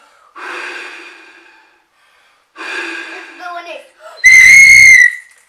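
Two breathy blows into an opening, followed by a loud, steady, high whistle imitating wind, with a hollow tone that holds for about a second.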